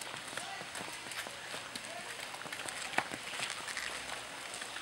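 Horse running during a ride, quick rhythmic hoofbeats on the ground, moderately near and steady, with people talking over them.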